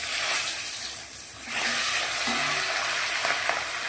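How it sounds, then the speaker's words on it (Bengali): Fish fries in hot oil in a pan on a gas stove, a steady bright sizzle and hiss with occasional soft spatters and clinks, close and continuous. "দেখুন ভাজতে শুরু করে দিয়েছি"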